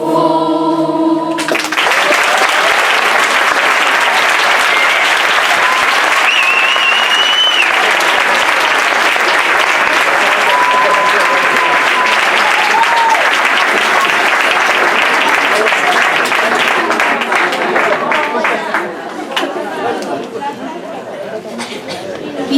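Enthusiastic audience applause after a primary school Christmas song performance, a dense, steady clapping that lasts about twenty seconds with chatter mixed in, starting right after a final sung note and thinning near the end.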